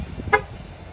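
A 2025 Volkswagen Tiguan SE R-Line gives a single short horn chirp on locking with the key fob button, brief and moderately close over faint outdoor background.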